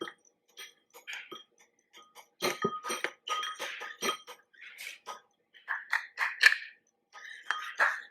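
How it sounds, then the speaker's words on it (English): A utensil stirs gelatin powder into a cheesecake slice mixture, making irregular light clinks and scrapes against a bowl in short bursts with quiet gaps between them. "And then just going to stir it until it's combined."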